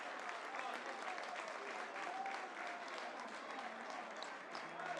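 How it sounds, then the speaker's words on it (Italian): Sustained applause from Vittoria football supporters in the stands at a Sicilian Promozione cup final, a steady dense clatter of many hands throughout, with faint crowd murmur beneath. "Gli applausi dei tifosi del Vittoria per il Vittoria."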